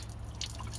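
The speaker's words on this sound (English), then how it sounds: "I think there's something wrong with this beer. That's so bad, as a matter of fact, I'm pouring it out." Blue Moon beer being poured out, a brief liquid splash and dribble against a steady low background hum.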